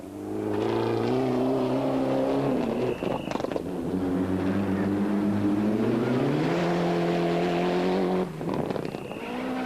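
Understeering Mitsubishi rally car on a stage of the 2001 Cape Rally, its engine loud and close, revving and shifting through gears with brief throttle lifts, without speech.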